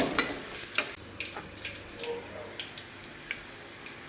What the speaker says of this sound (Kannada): ಇದೊಂದು ಸ್ವಲ್ಪ ಚೆನ್ನಾಗಿ ಫ್ರೈ ಆಗಲಿ